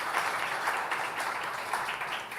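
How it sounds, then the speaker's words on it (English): Applause from a conference audience for a panel, a dense, steady patter of many hands clapping at moderate distance, lasting throughout. "please give my panelists a big round of applause"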